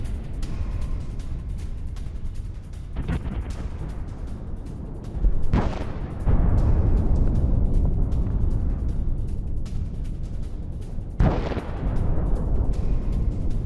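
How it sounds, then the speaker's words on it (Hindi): Israeli bombardment in Gaza: a continuous heavy rumble broken by several deep explosive booms spaced a few seconds apart, loud and distant-sounding, with no voices. "गाजा में इजराइल की विध्वंसक बमबारी।"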